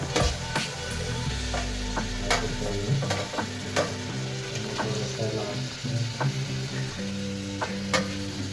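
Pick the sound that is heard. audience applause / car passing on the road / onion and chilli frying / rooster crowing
onion and chilli frying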